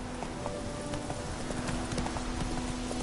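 Roach, the horse in The Witcher 3, gallops with quick, continuous hoofbeats over a dense, steady game soundscape with a faint tonal hum.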